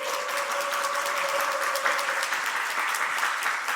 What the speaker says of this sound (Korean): 우리 김준영 집사님 박수 한번 해주시죠.